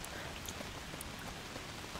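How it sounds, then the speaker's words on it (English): Heavy rain in the video game A Plague Tale: Requiem, a steady dense patter of drops hissing continuously on surfaces, close and even throughout with no voices. "The sound of the rain is good."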